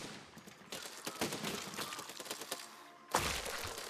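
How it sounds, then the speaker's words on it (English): A tank firing its cannon in the game Besiege, a rapid irregular string of sharp cracks and thumps followed by one heavy louder blast near the end, close and dense with no voices. "the tank is done shooting."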